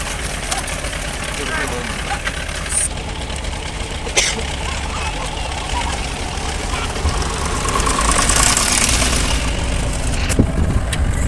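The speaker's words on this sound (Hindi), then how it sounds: "ट्रैक्टर आ रहा है भैया," A heavy tractor engine rumbles and chugs continuously nearby, growing a bit louder toward the end, with people talking over it.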